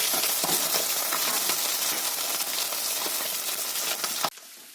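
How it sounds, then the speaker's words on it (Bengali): Fish frying in hot oil in a pan gives a dense, steady crackling sizzle that stays loud for about four seconds, then cuts off abruptly to a quieter hiss. No one speaks. "গরম হয়ে গেলে মাছগুলো এখন ভাজা করে নেব একে এক।"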